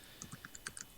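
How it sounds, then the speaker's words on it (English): Keystrokes on a computer keyboard, a quick irregular run of light clicks, fairly faint and close, with no talk over them. "Who's typing?"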